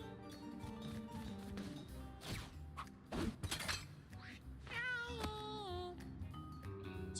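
A cartoon cat meows in the video game Mewgenics, several short rising and falling meows near the end over busy game music and effects, with a breaking, shattering sound partway through.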